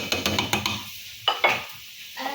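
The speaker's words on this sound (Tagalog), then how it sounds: "Haluin mo muna, nak!" A spoon scrapes and stirs through mixed seafood in a cooking pot, a few rhythmic strokes followed by two sharper knocks against the pot under a light background hiss.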